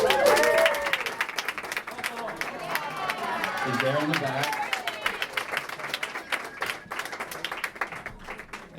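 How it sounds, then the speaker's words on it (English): Guests at a wedding toast clap together in a warm burst that thins out and gives way to chatter, while someone speaks over the applause. "I think that is a cause for a hearty round of applause, which you all beat me to."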